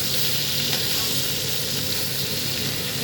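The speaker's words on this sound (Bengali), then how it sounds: "ভালো করে ভেজে নিচ্ছি নুন আর হলুদ দিয়ে।" Small whole pointed gourds, slit open, fry in hot oil with salt and turmeric, giving a steady, close, even sizzle with faint crackle throughout and no voices.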